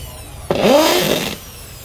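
A small Hitachi 450W power drill with a 10 mm chuck whirs briefly, spinning up sharply and running for under a second before winding down, close and fairly loud against quiet surroundings.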